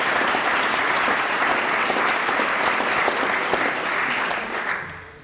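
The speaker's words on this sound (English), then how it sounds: "should get a round of applause for all the volunteers" An audience at a 1992 evening live music show claps for the volunteers, a loud, dense wash of applause that holds steady and then tapers off and fades away at the end.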